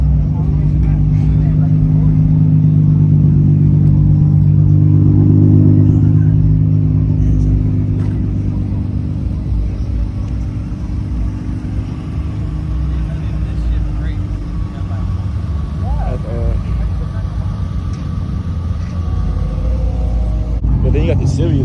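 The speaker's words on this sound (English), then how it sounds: "That M4 sounds so good, bro. I know y'all hear it." A BMW M4 engine rumbles loud and close at a busy car meet in a parking lot, swelling in a deep rev early on and then settling into a steady drone, with people talking and cheering over it.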